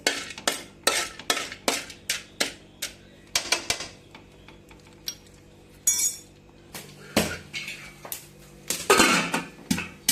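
A spoon stirs popcorn kernels in a pot, making a run of sharp scraping clicks and clinks in an uneven rhythm, close and fairly loud, with brief gaps between strokes.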